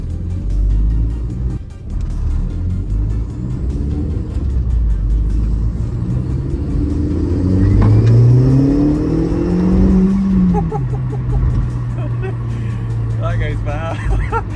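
An 8L-generation Audi S3 engine with an exhaust fitted revs up loudly and rises in pitch, then drops back to a throaty idle, close by, with some talking mixed in.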